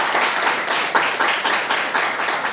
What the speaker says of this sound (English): Please welcome him with a loud round of applause.